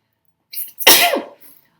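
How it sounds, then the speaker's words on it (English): A single close, sharp human sneeze with a short breathy intake just before it, then quiet. "I didn't even have time to tell you I was going to sneeze."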